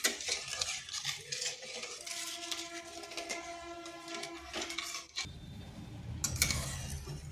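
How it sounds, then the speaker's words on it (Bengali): A spoon stirs sugar into water to dissolve it, making steady, close scraping and swirling clinks against the vessel, with no talk. "এরপর ভালোভাবে এটা জলের সাথে মিক্স করে নিচ্ছি। চিনিটা যেন জলের সাথে গুলে যায়"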